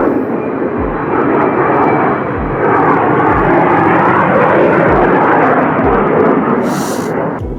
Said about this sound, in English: Wait for this plane to pass.